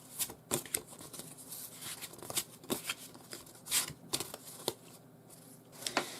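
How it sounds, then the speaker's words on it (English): Reproduction horror film lobby cards handled up close, with quiet papery flicks, slides and taps in an irregular rhythm. "The set also comes with these reproduction lobby cards from the film Satan's Slave."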